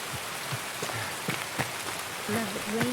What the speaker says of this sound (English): Love the rain sound effects.